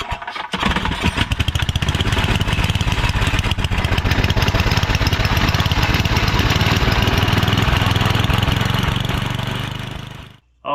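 A Tecumseh 9hp 318cc small engine, choke fully closed, starts up and runs steadily and loudly with a rapid chugging beat for about ten seconds, then cuts out.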